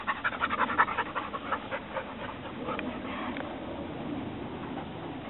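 Dogs panting close by, rapid rhythmic breaths that are loudest at first and then settle into softer, quicker huffing, with faint background noise and no talking.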